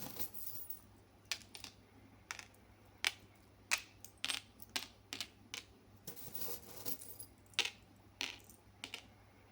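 Small metal charms set down one by one onto tarot cards, a quiet series of sharp little clicks and taps in an irregular rhythm, close up with no voice.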